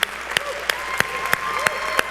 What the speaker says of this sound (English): One more huge round of applause for our panelists.